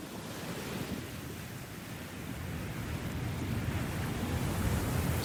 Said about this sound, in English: Wait, there were crashing waves and now desert.